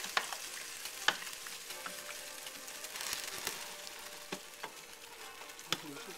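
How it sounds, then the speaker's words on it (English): Minestra Italian vegetable soup with oil is stirred in a pot, giving sporadic soft clinks and scrapes over a low, faint sizzle. "Okay, stir it up."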